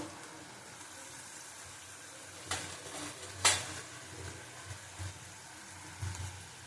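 Ground spices (cumin, turmeric) fried in a pan, with a low background sizzle broken by a few sharp scraping clinks of a spatula against the metal, close and without talk.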